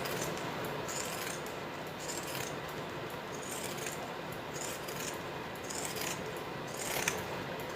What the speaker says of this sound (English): So I'm going to cut all this excess fabric off the outside of the wallet.